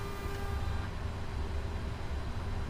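A PMDG 777 airliner in Microsoft Flight Simulator powers up from a cold and dark state, producing a steady, dense electrical hum and whir with a low rumble and faint tonal whines, constant and unbroken throughout.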